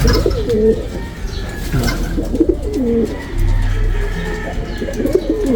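Young racing pigeons coo in repeated, wavering low calls close by, several birds overlapping against a faint background hum.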